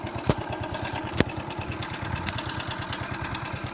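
A Passion Plus motorbike engine idles with a steady low chugging pulse, broken by two sharp mechanical clunks as the clutch is pulled and the bike is knocked into first gear.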